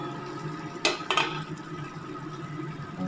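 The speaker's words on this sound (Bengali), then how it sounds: "5 মিনিট হয়ে গেছে, এবার ঢাকাটা খুলে নিচ্ছি।" A cooking pot of prawn and spinach curry is uncovered, and the metal lid gives two quick clanks close by over a steady low kitchen hum.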